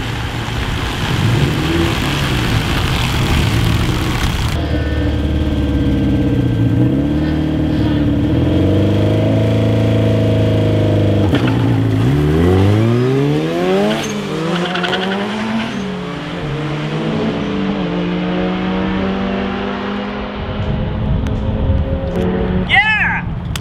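Cars launch on a quarter-mile drag strip, engines roaring loud and close with rising and falling gear sweeps and repeated shifts, a tire squeal mixed in, and voices talking over the noise.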